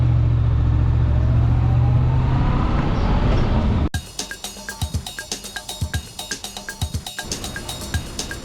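A Honda Transalp 750 motorcycle idles loudly, then after a sharp click into gear pulls away with rhythmic engine pulses as it rides off.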